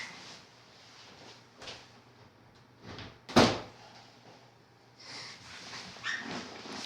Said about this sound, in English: Better close my door real quick.